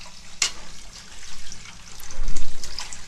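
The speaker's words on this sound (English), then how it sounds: "the tap has been running for more than 20 seconds" A tap runs into a sink in a steady, fairly loud stream, with splashing that swells toward the end and no talking.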